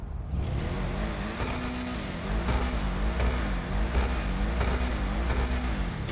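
Ubermacht Cypher sports car in GTA Online revving its engine inside an aircraft hangar, a loud steady roar with rising and falling rev sweeps and a few sharper blips, alone with no talk.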